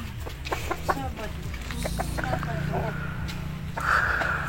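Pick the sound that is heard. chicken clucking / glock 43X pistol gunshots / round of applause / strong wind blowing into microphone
chicken clucking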